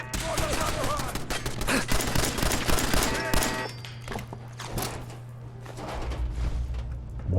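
Gunfire in Fallout 4 during a Brotherhood of Steel fight: dense, loud bursts of rapid automatic fire that thin out into scattered, quieter shots, with someone speaking over the action.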